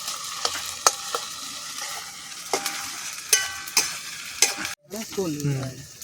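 Meat masala being stirred and fried in a pot outdoors beside a pond, with repeated scraping strokes of a spatula over a steady sizzle, close and moderately loud, ending in a brighter burst of frying.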